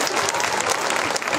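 Audience at a stage program of devotional singing breaks into applause, a brief, steady burst of many hands clapping together, fairly close and loud throughout.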